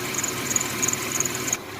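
A Chevrolet S10 Blazer 4x4 engine runs rough and stumbles, a steady droning idle with an uneven pulsing unsteadiness and a high thin whine above it, then drops away abruptly.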